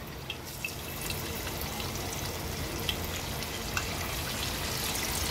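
Surmai fish frying in hot oil, a steady soft crackle and sizzle with faint scattered pops throughout, fairly quiet and close.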